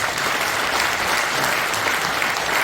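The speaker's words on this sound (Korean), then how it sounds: "뜨거운 박수 한번 부탁드립니다." Warm, steady applause from an audience at a Christian prayer breakfast worship service fills a large conference hall in the National Assembly members' building. Many hands clap densely and evenly throughout, loud and unbroken, with no speech over it.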